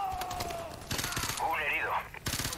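Bursts of rapid gunfire crackle over a fast, muffled soundscape in the video game Modern Warfare 2 Remastered, with a voice speaking partway through in Spanish.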